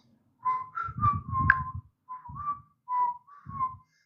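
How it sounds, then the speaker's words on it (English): A person whistles a short melodic phrase of several separate notes with brief pauses between them, clear and close, with soft breathy low noise under each note. "So people on the ship can hear me whistling."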